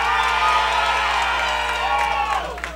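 A live audience at a show cheers, whoops and claps to vote for Forever in Soap, a steady loud crowd roar with rising whoops that eases off at the end.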